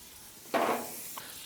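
A knob of butter drops into a hot cast iron pan at a tailgate and flares into a brief, sharp sizzle, then settles to a faint hiss.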